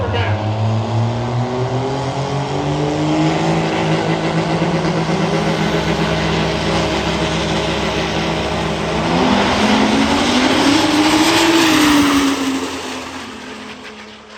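Two Cummins diesel pickup trucks launch in a drag race at an Alberta diesel day event, engines droning loudly and rising in pitch as they accelerate away, with a steady crowd and track din throughout.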